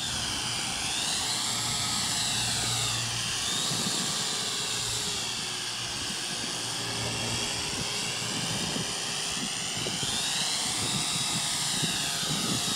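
A Syma X8W quadcopter drone flies outdoors among trees, its rotors making a steady, loud, high-pitched buzz whose pitch rises and falls continuously as it maneuvers.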